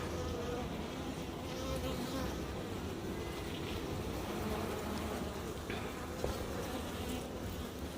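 Honey bees swarm around an open hive on a Jamaican bee farm, a dense, steady buzzing that fills the whole stretch without a break.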